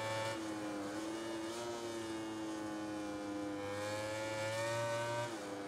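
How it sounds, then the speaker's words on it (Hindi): A racing motorcycle in the MotoGP 19 video game holds a steady high-pitched engine drone, rising and falling slightly as it revs, heard alone with no talk. "मक्खन चल रही है गाड़ी, तो आवाज़ भी बहुत प्यारी आ रही है कानों में"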